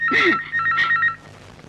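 A telephone rings in two short electronic bursts, close and clear, then falls quiet.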